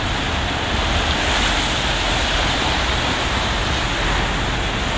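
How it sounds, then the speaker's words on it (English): Ocean waves and incoming tide wash steadily against the shore and rocks at Monterey Bay, heard from beneath a pier as a continuous, fairly loud broadband surf roar with no talking. "I'm just watching the tide come in."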